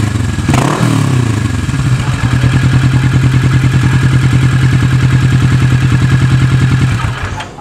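A Kawasaki Vulcan motorcycle runs through its exhaust, a loud, close, steady throbbing idle with rapid even pulses that stays constant for several seconds before dropping away at the end.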